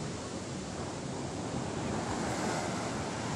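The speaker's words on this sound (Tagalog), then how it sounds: "napakaganda ng dagat" Sea waves wash steadily onto the shore with a dense, continuous roar mixed with wind buffeting the microphone, loud and close.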